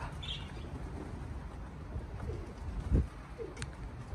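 Pigeons at a stock bird loft, soft low cooing and rustling close by, with a brief chirp and a few thumps, and no talking.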